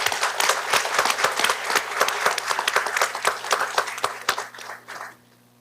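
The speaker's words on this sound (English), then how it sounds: "so a round of applause for both schools." An audience at a school board meeting applauds two high schools with steady, close clapping for about five seconds, then the applause stops abruptly into near silence.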